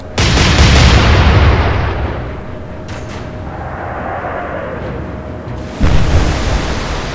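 Naval gunfire from the video game Atlantic Fleet, Royal Navy against Kriegsmarine: a loud booming salvo opens, a long rumbling decay and rushing noise follow, then a second heavy blast lands near the end, with no talking.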